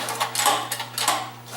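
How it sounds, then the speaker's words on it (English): Small engine on a motorized StingRay bicycle idling after a cold start, unused since last summer: a steady low hum with quick, uneven chattering pulses, close by and without talk. "This is a cold start. This motor has not been started since last summer."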